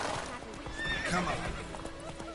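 Roach, a horse in the video game Witcher 3, lets out a loud, close whinny with clip-clopping hooves and a voice speaking over it.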